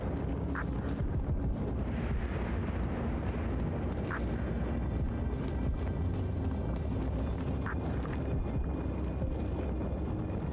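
Continuous battle din from the Immortals of Aveum video game, dense booms and explosions layered into a thick, steady roar that never lets up, with occasional brief sharper bursts above it.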